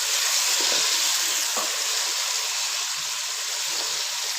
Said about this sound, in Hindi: और इसकी अच्छे से भुनाई कर लेंगे